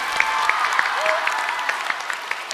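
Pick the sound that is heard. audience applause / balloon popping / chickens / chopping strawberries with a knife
audience applause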